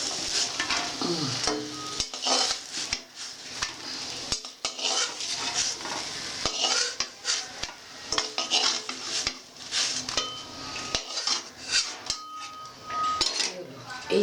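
Chhana kofta sizzling in hot oil in a pan, with repeated clinks and scrapes of a metal spatula against the pan and plate as the fried balls are lifted out, close and busy, a voice speaking now and then.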